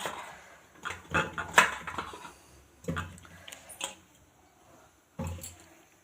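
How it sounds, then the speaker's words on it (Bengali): Peeled, cut and washed potatoes drop into a pressure cooker in a home kitchen, making several close, dull clunks and knocks in uneven bursts with quiet gaps between them. "এবার আমি সমস্ত আলু দিয়ে দেবো প্রেশার কুকারের মধ্যে।"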